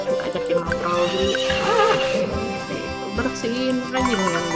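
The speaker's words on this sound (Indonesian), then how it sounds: "Nih, ada kuda gue ajakin ngobrol dulu." A horse in the Harvest Moon: Story of Seasons Friends of Mineral Town farming game gives a loud, wavering neigh with light hoof clip-clop, alongside looping game music.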